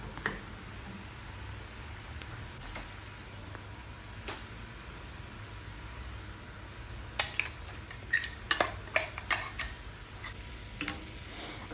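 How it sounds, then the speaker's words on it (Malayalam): A spoon works cooked raw banana and coconut paste together in a pan over a slow flame: faint sparse ticks at first, then a cluster of sharper metal clinks and scrapes, with no voices. "എന്നിട്ട് അത് പച്ചക്കായിട്ട് നന്നായിട്ട് മിക്സ് ചെയ്യുക."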